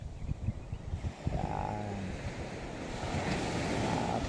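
Sea surf washing onto a beach beside old seawalls and boat landings, a steady broadband roar of breaking waves with wind buffeting the microphone throughout, close and fairly loud with no talking.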